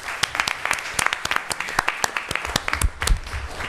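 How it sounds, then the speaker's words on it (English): Applause from the audience at a city council meeting, a modest number of individual hands clapping in an irregular, close patter. "And those folks need an applause."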